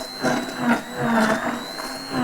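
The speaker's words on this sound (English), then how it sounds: "So just with a stick blender, it's always a little bit noisier." A stick blender whirs through a prawn sauce made with lime and coconut milk, its motor whining in loud, uneven surges as the blade moves through the liquid.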